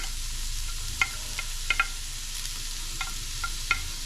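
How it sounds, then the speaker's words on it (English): Garlic sizzles in a hot pot of aromatics for a Guyanese metemgee, a soft steady frying hiss dotted with faint clinks of a stirring utensil against the pot. "I'll just put the garlic in."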